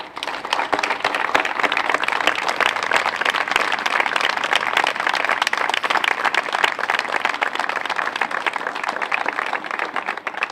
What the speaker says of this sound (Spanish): le demos un aplauso muy fuerte por su esfuerzo y trabajo